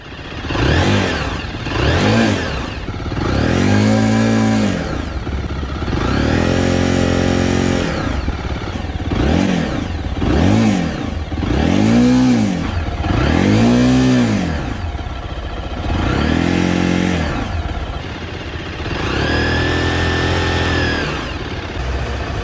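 A ZT350GK motorcycle with a 39-horsepower engine peaking at 9500 rpm revs hard again and again, each loud rising and falling sweep following the last with brief gaps.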